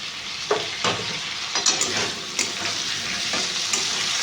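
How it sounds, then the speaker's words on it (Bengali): Chopped tomato hitting hot oil with fried ginger in a pan gives a steady, close sizzle, with a few sharper spatters and stirring scrapes breaking through at intervals. "এর মধ্যে টমেটো কুচোটা দিয়ে দেবো।"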